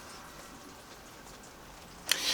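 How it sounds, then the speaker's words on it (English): Steady heavy summer rain in Britain hisses in a continuous wash, with a sharper splash or patter near the end. "it's chucking it down with rain for a change"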